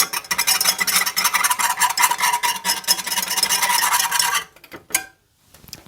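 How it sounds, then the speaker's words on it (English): Whisking a vegan bean sauce with mustard in a pot on the stove, a steady, dense scraping swish that runs continuously for about four seconds before stopping abruptly, followed by a couple of faint clinks. "I'm going to give it a little whisk just to make sure that everything is combined well"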